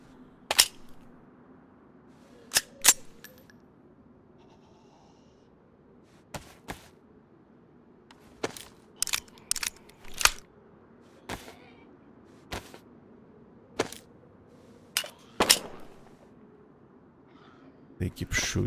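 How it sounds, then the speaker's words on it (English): Sharp, distinct gunshots ring out again and again at irregular intervals from Desert Eagle-style pistols in a shooting video game, each crack loud and clipped against a low steady background hum. "They keep shooting."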